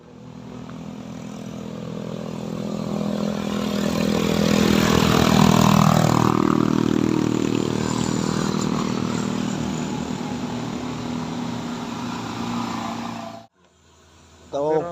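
A CBR motorcycle engine labours up a steep hill, droning loudly and steadily and swelling midway. Voices are heard faintly as it cuts off near the end.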